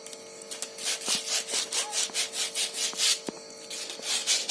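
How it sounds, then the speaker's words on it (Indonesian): Sandpaper rubs leftover glue off a Sharp Tiger airgun barrel in quick, even back-and-forth strokes, close and fairly quiet. "Kita amplas dikit biar sisa lemnya hilang."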